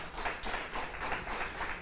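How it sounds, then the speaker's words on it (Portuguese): A church congregation claps briefly, a short patter of many hands at moderate volume, rhythmic and slightly distant, lasting under two seconds with no talking over it. "Pode aplaudir, amado."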